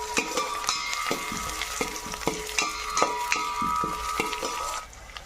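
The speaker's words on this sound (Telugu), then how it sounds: "ఉల్లిపాయ ముక్కలు వేసుకుందాం." Onion pieces frying with whole spices in hot oil, a dense close sizzle punctuated by repeated metallic ladle clinks and scrapes against the pan at an uneven rhythm, stopping near the end; no talking.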